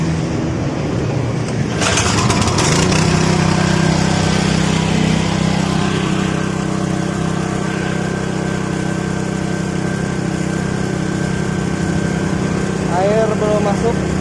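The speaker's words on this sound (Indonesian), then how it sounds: "Kita nyalakan mesin." A pressure washer's small engine starts up and settles into a steady, loud running drone with a persistent hum and light vibration, close by, continuing throughout.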